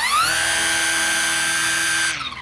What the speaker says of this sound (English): you're going to kind of see a whining noise that's going to make it sound a little bit louder